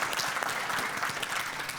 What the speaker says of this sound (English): you don't have to clap for everything